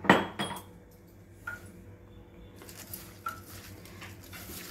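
Ground coriander, cumin and fennel are mixed in a bowl for cabbage pakodi, giving sparse close clinks and scrapes of a utensil against the dish, with quiet stretches between the taps.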